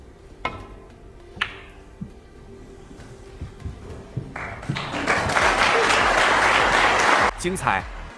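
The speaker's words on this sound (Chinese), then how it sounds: "虽然球迷们的掌声与尖叫同样很过分" Snooker fans in an arena break into loud applause and cheering that swells after a few scattered claps and sharp knocks, with a commentator's voice running underneath.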